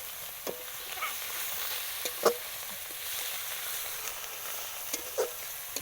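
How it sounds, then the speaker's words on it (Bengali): Spices and potatoes being sautéed in a pan outdoors at a field picnic, a soft steady sizzle broken by a few sharp scraping stirs and clinks of a spatula. "আমাদের মশলা মশলা সব কষিয়ে নেবো, একটু আলু ফালু কষিয়ে নেবো"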